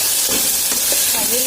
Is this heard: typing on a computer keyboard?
no